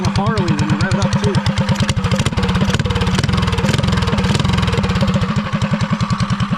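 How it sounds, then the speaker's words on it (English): An SFD Industries mini moto's small engine revs up and down with a rapid, chugging pulse, close and loud, while someone talks over it. "It sounds like a dang Harley when you rev it up too."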